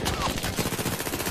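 Rapid gunfire from the video game Battlefield 1, a dense burst of automatic shots filling the short moment, loud and close, with a voice faintly mixed in.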